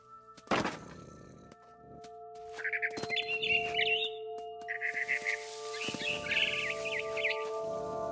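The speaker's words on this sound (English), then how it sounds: "Then I heard chirping outside my window. It was a barn swallow going back to her nest." A barn swallow in What Remains of Edith Finch chirps in quick bursts of bright twittering, opening after a sharp thunk and repeating against a steady low game hum.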